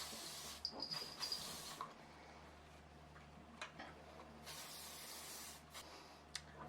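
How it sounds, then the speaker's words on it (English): Several short, close hisses of hairspray sprayed onto hair, one longer burst and a few quick puffs in a quiet room. "I just hairspray the bottom section."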